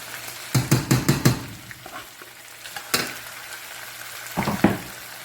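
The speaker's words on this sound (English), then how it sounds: "So at this point, I'm going to add the pimento peppers." Pimento peppers go into a pot of Trini-style stew chicken, setting off bursts of sizzling frying and stirring scrapes in short clusters, close and fairly loud, with quieter sizzle between them and no talking.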